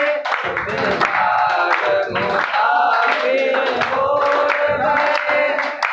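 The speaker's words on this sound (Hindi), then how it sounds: "ताली बजेगी खूब जोर से।" A group claps loudly in rhythm along with a sung bhajan during an International Yoga Day presentation by Madhav Yoga Ashram. The clapping stays steady and close under the singing voices throughout.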